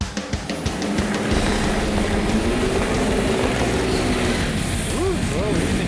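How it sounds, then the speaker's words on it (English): A Volkswagen car does a burnout, its engine roaring steadily and loud throughout, with faint talk and crowd noise underneath. "So let's watch this VW burnout."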